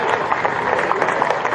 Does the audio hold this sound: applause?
yes